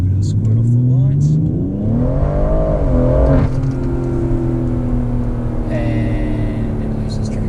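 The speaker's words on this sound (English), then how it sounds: "we'll give it a bit of a squirt off the lights." A BMW M140i pulls hard away from the lights, its engine revving up through the gears as heard from inside the cabin, loud and close, with a brief spoken remark partway through.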